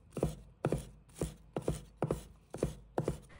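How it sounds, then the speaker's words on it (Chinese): A knife chops garlic cloves into small pieces on a board: seven crisp, evenly spaced chops ring out close and clear, with nothing else heard between them. "然后将蒜瓣切成小块。"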